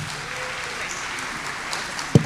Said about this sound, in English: Please, everyone, give her a round of applause.